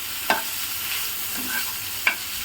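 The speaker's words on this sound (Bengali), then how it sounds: "এটা আমি যেহেতু মাছ, তাই সর্ষের তেলেই ভাজলাম।" Fish fries in mustard oil over low flame, producing a steady, soft hiss of sizzling throughout. Two sharp clicks or taps break the hiss, and no voices are heard.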